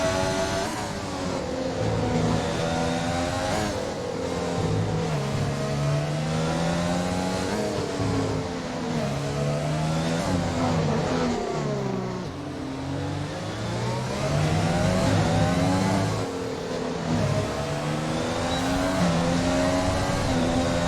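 Formula 1 race cars roar around the Hanoi circuit in a PC racing game, with engines revving continuously and pitch sweeping up and down through gear changes and corners, loud and close for the whole stretch.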